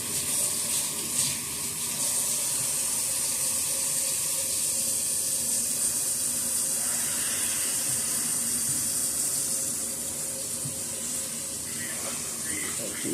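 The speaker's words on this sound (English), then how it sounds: "Let me wash my hands." Hands washed at a kitchen sink while making potato salad, with a steady running-tap hiss and water splashing, continuous and close throughout.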